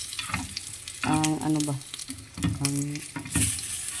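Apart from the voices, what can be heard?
dried fish (tuyo) frying in oil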